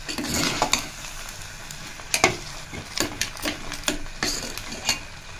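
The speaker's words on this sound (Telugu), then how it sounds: "సో బెల్లం కరిగేంత వరకు కలుపుతూ ఉండాలి మంచిగా" A spoon stirring jaggery and rice in a pan as the jaggery melts, with soft sizzling underneath and repeated scraping clinks of metal against the pan, close and moderately loud.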